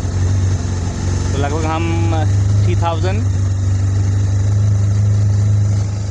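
A 220cc motorcycle engine idles steadily at about 3000 RPM during a mileage setting, giving a constant low droning hum while someone speaks over it.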